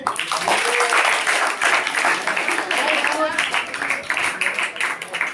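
Audience clapping to welcome a school quiz team, a burst of brisk applause from a room of people, mixed with voices and a loud announcer speaking over it.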